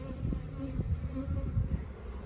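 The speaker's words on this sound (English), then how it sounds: "lots of bees in the hive." A dense, steady hum of many buzzing honeybees in a hive being split, close and continuous, with no talking.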